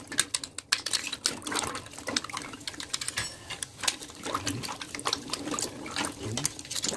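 Rapid, uneven scratching and brushing strokes with wet clicking sounds, close by and continuous, as a brush scrubs sand-jammed submersible pump parts with water.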